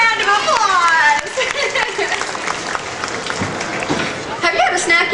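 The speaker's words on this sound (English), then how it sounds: "Let's give Michael a big round of applause." An audience at a live show at Six Flags Great Adventure claps for a volunteer named Michael, a burst of applause and cheering that swells then fades under a host's talk.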